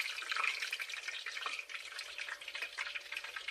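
Two empanadas frying in hot oil give a steady, dense sizzle with bubbling crackle, close and constant, no voices.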